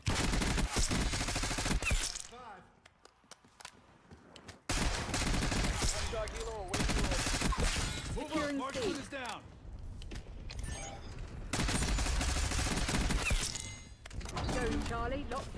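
Automatic assault rifle fire in Call of Duty Black Ops 6 multiplayer, long dense bursts of rapid shots lasting several seconds each, broken by short pauses, with game voice callouts mixed underneath.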